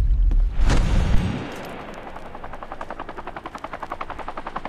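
A helicopter in the video game Hitman Absolution, a loud rotor thump that fades, then a rapid rhythmic chopping beat that builds and grows more pronounced, with a sharp burst near the start.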